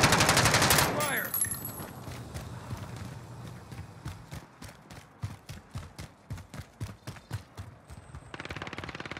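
Gunfire on Rebirth Island in Call of Duty Warzone: after a loud opening burst, a long string of sharp, evenly spaced shots cracks out in a steady rhythm, followed by a brief hissy stretch at the end.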